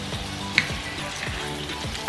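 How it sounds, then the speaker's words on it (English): Beef stew ingredients and meat broth being stirred in a sizzling pot, a continuous frying hiss with rhythmic scraping strokes of a spoon repeating every half second or so and a small clink partway through. "And now I'm stirring to mix them."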